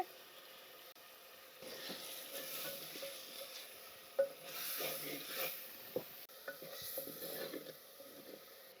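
Tomato and onion pieces sauté with salt in a pan for a drumstick pulusu, giving a soft, low sizzle broken by occasional scraping stirs and a few light clinks.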